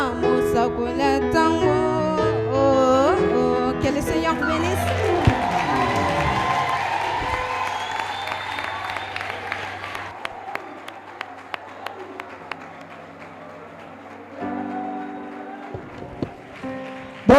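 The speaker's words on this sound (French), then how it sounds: "Encore des acclamations au Seigneur" Sunday evening church congregation breaks into cheering and clapping as a sung passage with tonal music ends, the crowd noise swelling then tapering off, with scattered claps and a brief return of music near the end.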